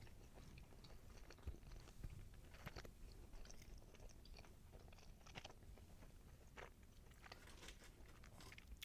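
Close, quiet bites and chewing of a breaded minced beef skewer with finely chopped onions from a Belgian friterie, with soft irregular crunches and moist mastication and no speech.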